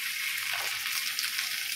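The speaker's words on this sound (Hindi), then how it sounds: "और इसे हल्के हाथों से मिक्स कर देंगे ताकि इसमें मसाले का कोट लग जाए" Paneer pieces folded gently into masala in a pan, giving a steady soft sizzle with faint stirring scrapes, close and continuous with no talking.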